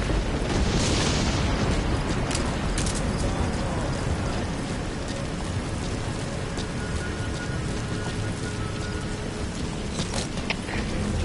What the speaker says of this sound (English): Be sure to time the explosion carefully.